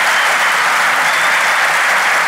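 Theatre audience applauding at full strength, a dense, loud, continuous wash of many hands clapping with no pauses.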